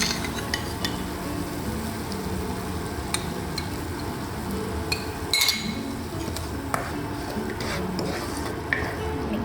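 Tomatoes and spices sizzling in a pan while being stirred, a steady quiet frying hiss with light scrapes and occasional clinks of utensils against the cookware.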